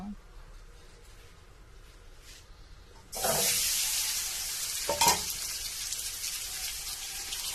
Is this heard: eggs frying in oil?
yes